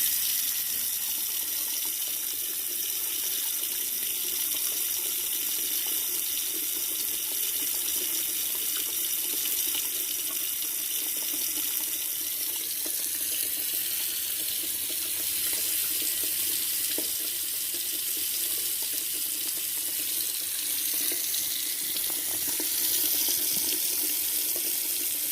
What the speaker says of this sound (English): Full blast, hot water.